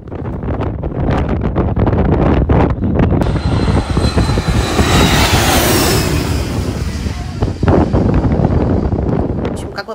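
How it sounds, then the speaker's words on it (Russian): Airplane taking off at Batumi airport, a loud sustained engine roar with heavy wind buffeting on the microphone, filling the whole stretch at close range. "Вот здесь аэропорт, как раз взлетают самолеты"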